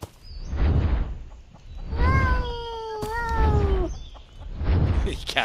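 A cat meows in the RPG dungeon game Sir Whoopass: Immortal Death, giving one drawn-out, rising and falling call in the middle, with broad game ambience and low rumbling before and after it.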